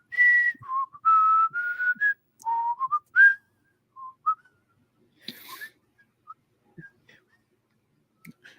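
A person whistles a short melodic tune in clear, distinct phrases, with pauses and a few soft clicks between them, close and fairly quiet.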